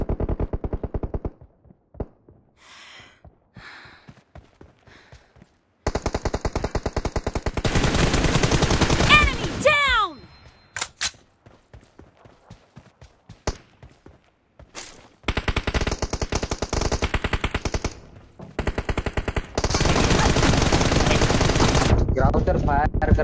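Automatic gunfire in a mobile shooter's two-versus-two team deathmatch, with long loud machine-gun bursts alternating with single shots and quieter gaps, with talking heard in places.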